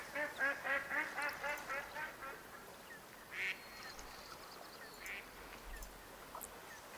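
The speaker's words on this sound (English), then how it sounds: "it's just an ambient bird there" Wild ducks in a hunting video game marsh: a rapid run of quacks at the start, then a few scattered, fainter calls over soft ambient marsh noise.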